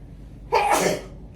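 A single sharp sneeze bursts out after a brief quiet moment, loud and close, lasting about half a second.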